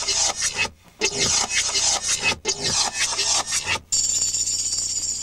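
Resampled percussion loop of scraping, rasping hits with a wooden rubbing texture, chopped into dense rhythmic bursts broken by brief gaps, ending on a bright sustained shimmer.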